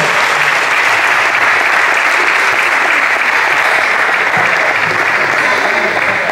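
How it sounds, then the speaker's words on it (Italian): Loud, continuous crowd applause for the overall winner of the third Altomonte slalom, a dense close clapping roar that holds steady throughout with faint voices underneath. "un applauso"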